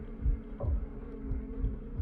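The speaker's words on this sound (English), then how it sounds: "Ew, not the flies buzzing." Buzzing flies used as a sound effect within a song, a low droning hum with recurring swells running steadily under the music throughout.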